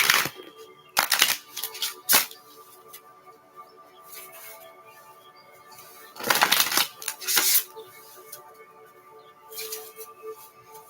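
Bursts of riffling card shuffles, a couple of short ones early and a longer flurry midway, with quiet gaps and faint background hum between.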